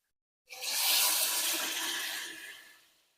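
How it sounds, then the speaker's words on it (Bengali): Hot water poured into a pot of cooking chicken curry, a single loud rushing splash lasting about two and a half seconds that fades away. "এখন আমি গরম জল দিয়ে দেবো, যেহেতু আগে থেকে আমি গরম জল করে রেখেছিলাম।"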